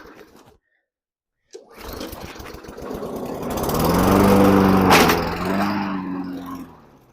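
A stalled lawn mower engine coughs into life after a silent pause, then sputters and drones unevenly, swelling louder and steadier before wavering as it struggles to keep running, heard close with no talk.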